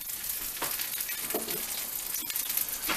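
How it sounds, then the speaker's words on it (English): Tomatillo and onion roasting in a hot cast iron skillet, giving a steady, close crackling sizzle with a few sharper pops and spits scattered through. "Alright, now we're gonna roast our vegetables. We start with the tomatillo in a hot iron skillet,"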